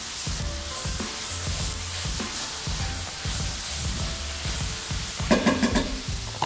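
Seasoned cabbage is stirred in a pan, a rhythmic scraping of the utensil over a low sizzle, repeating about once a second, with a brighter metallic rattle near the end.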